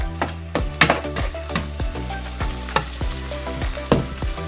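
Taco meat frying in a pan, a continuous moderate sizzle broken by repeated sharp scrapes and knocks of a utensil stirring it, with no one talking.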